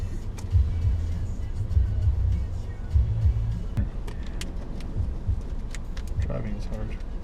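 A car driving along a road toward the Hoover Dam, a low steady engine rumble with bumps and light rattles from inside the cabin, while people talk over it.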